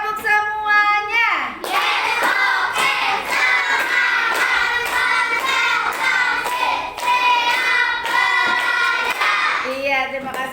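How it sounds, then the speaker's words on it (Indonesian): Children in a classroom clap together in a steady, loud burst of rhythmic hand claps lasting most of the stretch, with young voices chanting along over the claps. "Tepuk semuanya."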